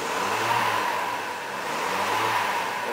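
A car engine at altitude, with its electronic throttle body under inspection, rises in a steady, close mid-pitched rev as the accelerator is pressed, holding a continuous whirring drone.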